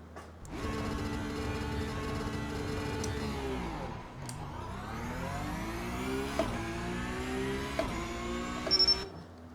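A race car in iRacing makes a standing-start launch, its engine revving up steadily, dipping through a gear change, then climbing again in a loud, continuous whine with no talk over it.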